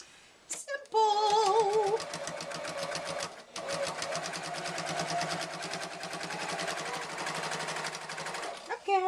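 A sewing machine top-stitching a zipper pocket, a steady fast mechanical whir with rapid needle clatter. It runs continuously for several seconds at close range, with a brief slowdown partway, and a person speaks near the start.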